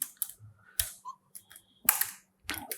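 Keys on a computer keyboard are struck in short, sparse bursts, a few quick clicks then pauses, near and fairly quiet with no talking.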